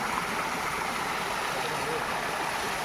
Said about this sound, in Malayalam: ഇതായിട്ട് നമ്മളെ ശക്തിയായിട്ട് ഒഴുകി വരുന്ന വെള്ളമാണിത്.